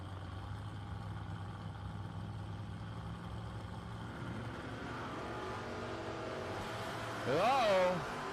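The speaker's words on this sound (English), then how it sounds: "Burns with a 508 prediction on his Oldsmobile." Drag racing at the Keystone 660 Top Bulb Nationals, a Mustang from Latrobe, PA and an Oldsmobile idling at the line, then revving and launching with a rising engine howl near the end, under a steady crowd and PA din.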